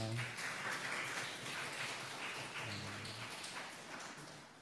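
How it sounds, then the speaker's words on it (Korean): A Korean church congregation in Darmstadt, gathered for a third Sunday of Advent service, applauds to welcome one another, producing soft, distant, continuous clapping that stays faint throughout. "우리 옆에 있는 분들 박수로 환영했으면 좋겠습니다"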